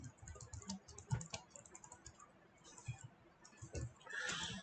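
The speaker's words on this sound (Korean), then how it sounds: "타이핑으로 정리할게요." Quiet, fast typing on a computer keyboard, with irregular clicks of keys up close and a few louder taps, and no voice over it.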